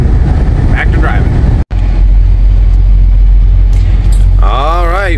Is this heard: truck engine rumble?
yes